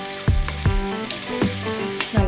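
Ginger garlic paste fries in a pan with a steady close sizzle, broken by several rhythmic scrapes and clunks of a utensil stirring against the pan.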